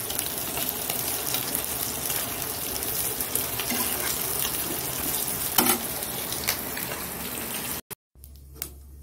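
Cumin seeds and chilli fry in oil for a fish curry, giving a continuous close hiss and crackle that cuts off abruptly near the end.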